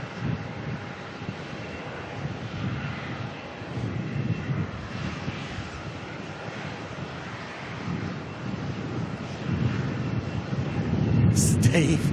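Jet airliner engine roar at Melbourne airport, a steady broadband rumble holding through the whole stretch and swelling louder toward the end, with wind buffeting the microphone and a voice speaking now and then.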